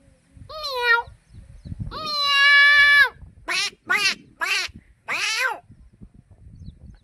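A man imitates a cat, producing a long drawn-out meow followed by a series of shorter, rising and falling meows, clear and close with brief pauses between calls.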